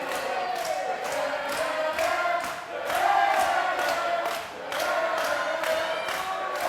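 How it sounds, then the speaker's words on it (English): An arena crowd at a strength contest final roars and cheers in rhythmic waves, with repeated thumping beats and a steady wall of noise that swells and dips. "This crowd getting behind both men."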